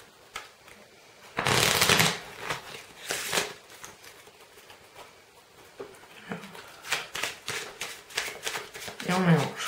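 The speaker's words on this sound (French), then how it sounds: "Donc on va mélanger." A blue-backed Bicycle deck of playing cards being shuffled by hand in bursts of rapid riffling and flicking, close and crisp, with pauses between and a voice speaking briefly at times.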